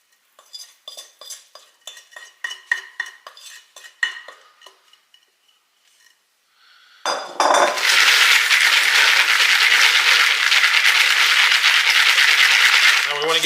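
Chex Mix being stirred in a bowl to coat it evenly gives light, irregular clinks and rattles of cereal pieces for several seconds, followed by a loud, steady rushing pour of the mix that fills the rest of the clip.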